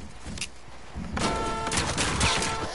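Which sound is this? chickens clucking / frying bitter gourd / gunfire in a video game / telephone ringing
gunfire in a video game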